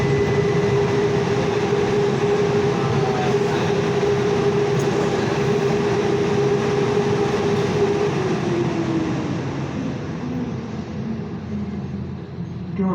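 A loud, steady roaring blower drones continuously inside a moving Valley Metro Tempe streetcar, with rumbling wheels beneath, easing slightly toward the end.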